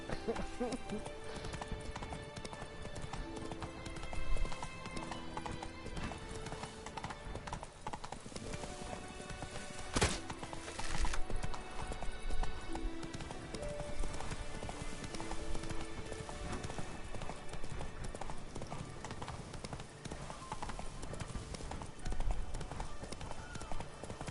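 Roach, the horse in The Witcher 3 game, gallops in a steady clip-clop of hooves amid game music and effects, while a person talks over it.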